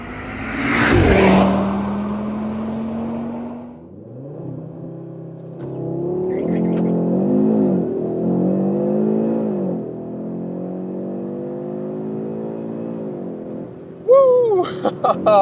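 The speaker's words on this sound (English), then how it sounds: "And this was your launch control here for today." An Audi RS3 facelift in performance mode with ESC Sport fires off a launch-control start: a loud engine rev, then a hard surge of acceleration that climbs through rising gear pulls and stays strong and close throughout.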